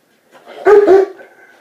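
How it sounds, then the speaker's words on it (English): A St. Bernard dog gives a single loud, deep bark close by, followed by a short trailing whine. "There's a dog. Big dog. Big, huge dog. And St. Bernard dog."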